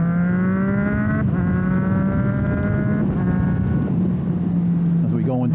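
A Triumph Street Triple motorcycle's three-cylinder engine hums steadily while riding, a sustained droning tone that rises and shifts slightly with throttle, loud and close with wind rush throughout.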